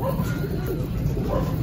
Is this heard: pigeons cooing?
yes